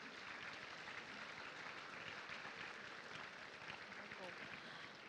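Sustained audience applause at a University of London graduation presentation ceremony, a dense, steady wash of many hands clapping at even loudness throughout, with no voices standing out.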